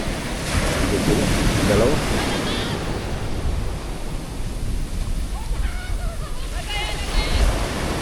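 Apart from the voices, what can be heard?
sea waves crashing near the house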